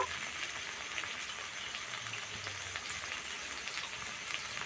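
Whole spices frying lightly together in hot oil in a pan for a rupchanda fish oil-and-chili curry, a steady close hiss and crackle that carries on evenly with no talking.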